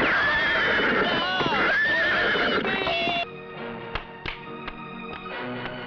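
A horse whinnies loudly in a Hindi film scene, its neigh rising and falling over the first three seconds, followed by a few sharp hoof thuds and clip-clops.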